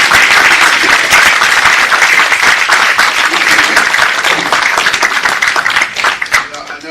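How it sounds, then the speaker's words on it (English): An audience applauds a health-disparities conference panel with sustained, dense clapping, loud and steady throughout, fading slightly near the end. "Please give this panel a round of applause."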